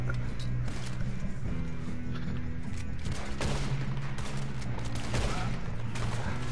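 Gunfire in the Red Dead Redemption 2 video game, a dense stream of overlapping shots and rattling bursts against a constant mechanical game background, loud and close throughout.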